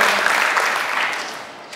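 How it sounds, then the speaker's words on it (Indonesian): Congregation clapping during a church service, a short burst of applause that starts full and gradually tapers off. "Beri tepuk tangan bagi Tuhan"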